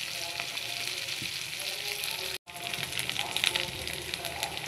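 Restaurant-style chili chicken frying in a pan as tomato sauce goes in, a steady loud hiss and crackle of oil close up, briefly cut off for a moment before resuming with sharper spitting pops, with a voice talking over it.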